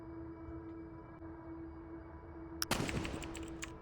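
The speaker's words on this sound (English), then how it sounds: "Somewhere far below, a gunshot cracks, faint, then another." Faint, distant gunfire in the video game Celestial Return: a sharp burst near the end, then a second crack, echoing up over a steady low hum and drone.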